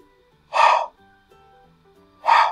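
A voice imitates the letter H for a children's alphabet lesson, making two sharp, breathy exhalations about two seconds apart, each short and forceful against near silence.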